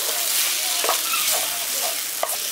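Jackfruit with garam masala is being mixed in a hot pan, a steady sizzle with a few soft scraping stirs and a small clack near the end.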